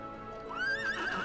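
A horse neighs with a rising, wavering whinny over soft hoof clip-clops in the video game Trails of Cold Steel 2, close and fairly brief.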